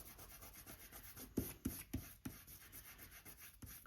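Purple ink is rubbed off a paper strip in scrapbooking work: soft, faint scratchy strokes, several short pushes in a row, close and alone.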